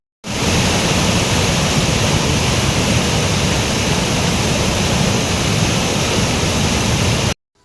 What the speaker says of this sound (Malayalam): ഇരപ്പൻപാറ എന്നാണ് ഈ വെള്ളച്ചാട്ടത്തിൻ്റെ പേര്